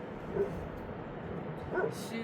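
A dog at a nomadic family's camp gives short yips and whimpers over steady background noise and outdoor hum, with people talking nearby.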